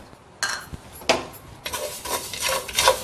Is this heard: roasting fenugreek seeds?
yes